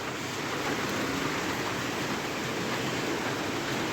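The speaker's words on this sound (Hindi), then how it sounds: "तो भाई देखो क्या खतरनाक बारिश लग पड़ी।" Heavy rain falls in a steady, dense hiss that fills the whole stretch evenly and loudly, with no pauses or voices.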